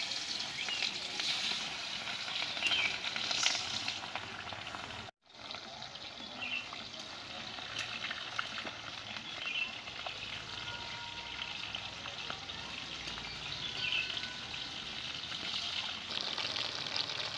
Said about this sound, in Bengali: এবার আমি মাছগুলো তেলের মধ্যে দিয়ে দেব।